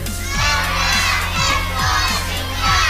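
A crowd at an outdoor Covid-19 relief ride and feeding event shouts a team slogan together in loud, rhythmic repeated bursts, with children's voices mixed in.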